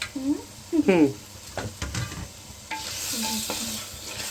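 Crabs cook in masala in a pan with a close, steady sizzle, briefly stirred. Voices talk over the cooking at the start, and the frying hiss grows fuller toward the end.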